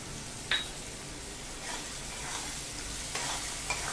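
Onion and peanuts sauté in a pan for brinjal bharit, a steady soft sizzle with a few light clinks of a stirring spoon against the pan.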